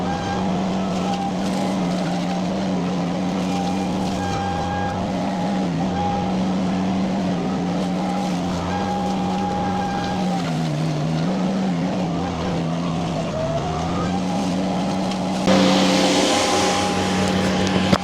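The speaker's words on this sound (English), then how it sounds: "let's fire this thing up and get after it" A Chinese mini skid steer with a forestry mulcher drones steadily at close range, with a constant engine tone that dips briefly and surges brighter near the end.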